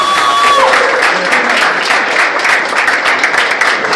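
A jazz concert audience applauds loudly and continuously, dense clapping filling the room as a sustained tone fades out at the start.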